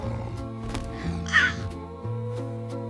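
Several harsh crow caws ring out, one louder burst in the middle, over a steady low hum and tonal background.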